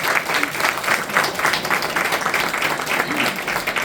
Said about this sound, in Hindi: एक बार भैया धैर्य के लिए भी तालियां हो जाए।